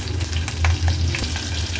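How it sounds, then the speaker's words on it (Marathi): Mustard seeds, cumin and curry leaves crackle and sizzle in hot oil with a little garlic for a Maharashtrian tempering, a loud, close, continuous spitting fry with no voices. "अर्धा चमचा राई, अर्धा चमचा जिरं, कढीपत्त्याची पानं फोडणीला घालूया।"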